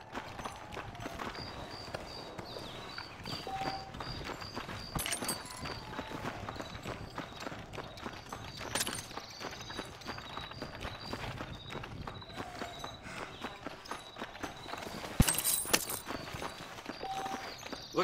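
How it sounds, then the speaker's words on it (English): Horse hooves clip-clop steadily in the Western video game Red Dead Redemption, a continuous trotting patter over game music and ambient effects, with no talk. "Looks like Carlos left us some horses."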